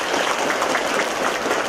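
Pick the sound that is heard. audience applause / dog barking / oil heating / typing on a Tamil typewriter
audience applause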